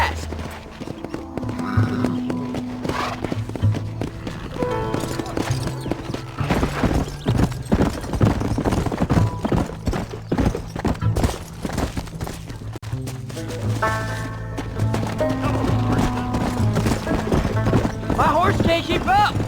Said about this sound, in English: My horse can't keep up!